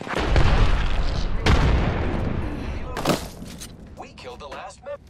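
A frag grenade blast in the Apex Legends battle royale shooter, a loud booming burst among heavy gunfire and impacts, with several sharp bangs in a busy firefight and voices talking over the action.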